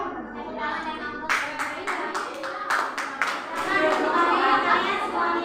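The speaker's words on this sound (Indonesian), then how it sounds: "Tepuk tangan" A class of children claps in applause after a group presentation, a burst of many hands starting abruptly and continuing steadily under background chatter and kids' voices.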